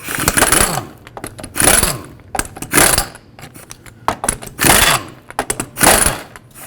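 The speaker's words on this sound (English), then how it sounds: "remove these lug nut covers first with a 19mm socket" A 19mm socket loosens the lug nut covers on the steel wheel of a 2006–2011 Chevrolet HHR, giving five loud bursts of metallic whirring and rattling up close, with clicks and clinks between them.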